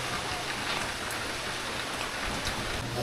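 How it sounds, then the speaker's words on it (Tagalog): Heavy rain during a typhoon falls in a dense, steady hiss, close and constant, with occasional louder drops pattering on a surface. "Ulan na naman"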